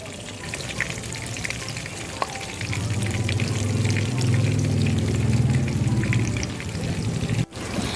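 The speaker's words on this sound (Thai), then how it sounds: "แล้วก็ทำการทอดต่อค่ะให้มันเหลืองได้แบบนี้เลยนะคะ" Shrimp donuts fry in hot oil, a steady close sizzle that swells and thickens partway through, with faint stirring and bubbling.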